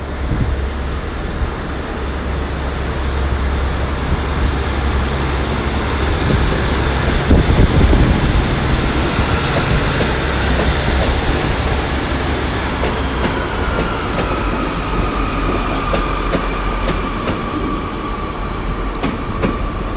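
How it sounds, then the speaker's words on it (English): A double-unit Class 150 diesel train, 150265 leading and 150243 at the rear, departs Exeter St David's station, its engines droning loudly and steadily with wheels clattering over rail joints throughout. "You've got the extra train now going out, 150-265 at the front. It's a double 150."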